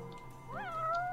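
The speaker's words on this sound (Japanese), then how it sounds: "こんなところに猫が。" A cat in the video game Judge Eyes gives a single short, clear meow with a rising then falling tone, heard alone over a steady low background hum.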